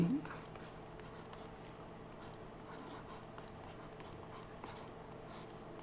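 Chalk or marker writing on a classroom board while a math problem on three-digit numbers is worked, a steady close scratching that runs the whole time under a teacher's talk.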